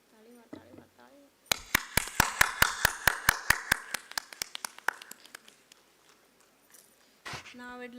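Audience clapping at a medical conference session, opening with brief speech before a burst of loud, distinct claps that gradually thin out and fade, followed by more talking.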